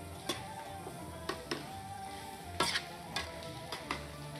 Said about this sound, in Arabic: زين هني حمسنا البصل.